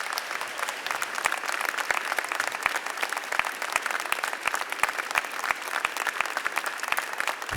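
Steady applause from an audience at a New York City event honoring a police officer, many hands clapping evenly throughout with no talk over it.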